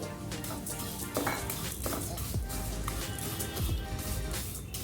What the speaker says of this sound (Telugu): ఇప్పుడు ఇందులోకి ఒక కప్పు సేమియా వేసుకొని సేమియాను కూడా ఫ్రై చేసుకోవాలి